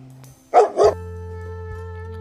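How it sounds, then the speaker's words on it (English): A dog barks twice in quick succession, loud and close, over a steady low electronic hum that continues after the barks. "This is a dog."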